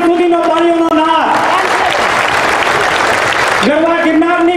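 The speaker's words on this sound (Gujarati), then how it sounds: "30 સેકન્ડ સુધીનો તાળીઓનો નાદ" Loud burst of applause from a large crowd welcoming guests at a BJP rally in Junagadh, a dense roar of clapping that rises abruptly between stretches of amplified speech with a sustained tonal voice before and after.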